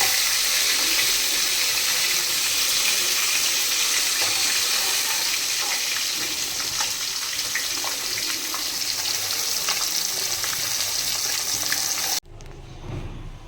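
Pieces of rohu fish fry in hot oil in a wok, giving a loud, dense, continuous sizzling hiss that cuts off abruptly near the end, with no one talking.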